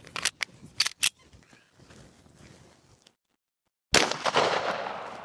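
A Smith & Wesson M&P 2.0 Competitor pistol fires several sharp shots in quick succession at a range, with a quieter gap before one more loud report near the end.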